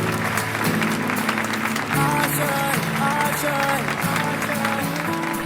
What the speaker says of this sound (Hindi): प्लीज जोरदार तालियों से नेत्रा की मम्मी का स्वागत कीजिए